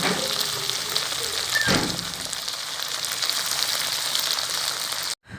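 Finely chopped okra frying in a pan on a gas stove, a steady close hiss of sizzling with a brief louder burst midway, cutting off abruptly near the end.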